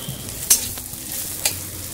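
Onions frying in a pan for egg noodles, a steady close sizzle with a couple of brief scraping stirs.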